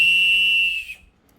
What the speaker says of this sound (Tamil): இது விசில் நல்லாவே சவுண்டாக இருக்குது.